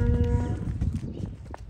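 Angus cattle on a farm, with a low bovine moo-like call at the start over steady barn rumble and shuffling, farm animal sounds continuing faintly throughout.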